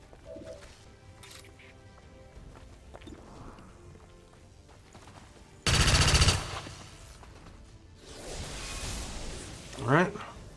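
Pistol shots finishing off an enemy in the video game XCOM 2, a sudden loud burst of gunfire partway through over a quiet game backdrop, followed by a rising whoosh and a final sharp hit.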